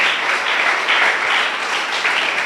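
A church congregation applauds in a dense, steady roar of clapping that swells slightly in waves, filling the room without any voices standing out.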